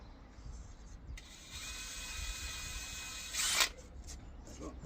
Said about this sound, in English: And I'm going to put 4 screws in each side.